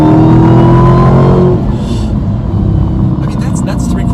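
A Dodge Demon muscle car engine roaring at three-quarter throttle, a loud close rumbling rev that holds steady and then eases off, with a voice talking over it.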